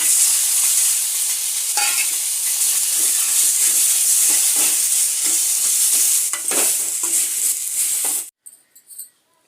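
Steady, loud sizzle of ingredients frying in about a teaspoon of oil for village-style chicken sambar, with tomato going in, and scraping stirs throughout; the hiss cuts off abruptly near the end, leaving a few faint clinks.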